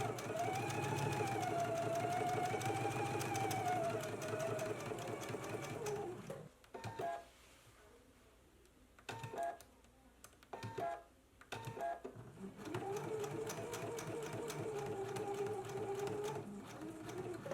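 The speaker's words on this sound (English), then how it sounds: "Let's go ahead and stitch along the stitching line now." Sewing machine stitching along the stitching line of a Know Me ME2132 jacket in white thread, a steady fast whirring run that stops midway for a few short bursts and pauses, then resumes steadily, close and clear.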